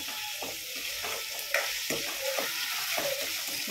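Onions frying in a pan for pav bhaji, a steady sizzle broken by repeated scraping stirs of a spoon, close and moderately loud with no talk.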